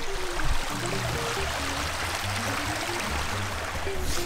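A river stream reached by hiking down flows steadily nearby, a dense continuous rush of water with a faint tonal hum underneath and no speech.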